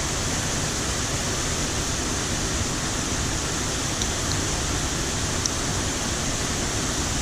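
Steady, broadband rushing of a river flowing at a fishing spot, an even, unbroken wash of water noise that holds constant and fairly loud the whole time.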